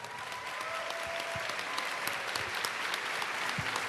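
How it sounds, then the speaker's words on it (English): Sustained applause from an audience at a dance competition event, a dense even wash of clapping with occasional sharper claps standing out and a few faint voices underneath. "let's give another round of applause to all of our dancers and all of our winners."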